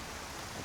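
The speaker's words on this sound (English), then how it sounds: "So here we are in Whiterun, and it's raining here as well." Steady rain falling in Whiterun in the video game Skyrim, a dense, even wash of hiss with no talk over it.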